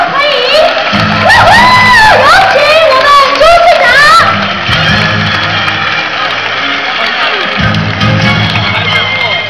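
A crowd cheers and shouts at a company's 50th anniversary fair as a mayor is welcomed onstage, loud sustained whoops over an announcer's amplified voice, with the cheering rising again between phrases.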